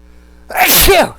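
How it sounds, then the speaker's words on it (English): A single sharp sneeze bursts out close and loud after a brief quiet moment. "gonna sneeze again"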